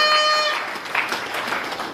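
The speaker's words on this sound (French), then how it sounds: "En attendant, simplement, on applaudit simplement." Members of a church committee meeting break into brief applause, a dense burst of clapping from a gathered group that fades slightly over two seconds.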